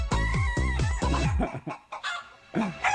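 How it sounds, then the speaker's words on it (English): Chickens cluck and a rooster crows in a song-like sequence: several loud, rhythmic clucks descending in pitch open it, followed by warbling crowing calls with short gaps, close and clear. "The chicken song."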